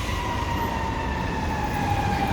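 Emergency vehicle sirens wail steadily through downtown Chicago near Randolph Street and the theater district, a continuous sustained tone over constant city traffic rumble, moderately distant and unbroken.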